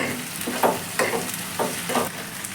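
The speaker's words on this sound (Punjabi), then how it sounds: "ਹੁਣ ਆਪਾਂ ਭਿੰਡੀਆਂ ਨੂੰ ਇਸ ਤਰ੍ਹਾਂ ਹਿਲਾਉਂਦੇ ਰਹਿਣਾ ਹੈ" Okra frying in a pan while being stirred, a steady close sizzle with several rhythmic scraping strokes of the spoon through the vegetables, no talk.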